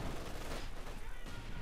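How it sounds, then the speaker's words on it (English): Light machine gun fire in the video game Company of Heroes 2 rattles as a dense, continuous burst of gunfire mixed with battle noise, loud and unbroken across the short moment. "light machine gun fire against the mortar"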